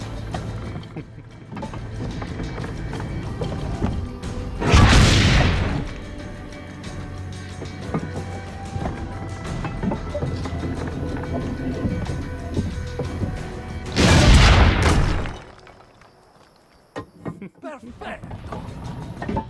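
Two loud, booming cannon shots from Assassin's Creed Brotherhood, spaced about ten seconds apart, rise above a busy game soundscape of music and ambience, and a voice talks in between.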